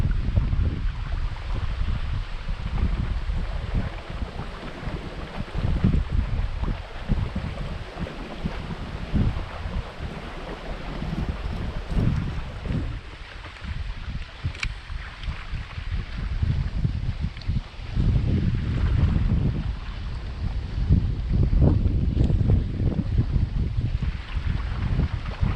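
Strong wind roars steadily across the microphone out on a fishing boat, a constant buffeting rush with low rumbling gusts and faint water noise, no voices.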